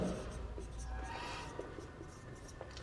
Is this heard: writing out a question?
yes